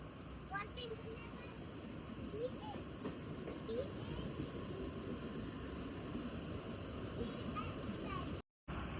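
Mumbai local train running with passengers riding in first class, a constant loud rumbling roar of wheels and carriage, with faint voices and a child's chatter in the background.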